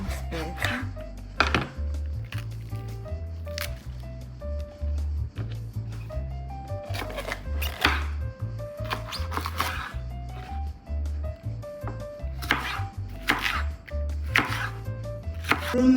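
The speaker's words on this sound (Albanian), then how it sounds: "E tani presim specën." A knife chops a pepper on a cutting board in quick, uneven bursts of crisp taps, close and clear over a low background hum.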